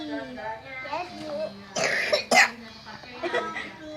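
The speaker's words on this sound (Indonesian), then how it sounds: "Maaf ya, aku batuk." A child coughs in two quick, harsh bursts partway through, close to the mic, with children talking before and after while making slime at home.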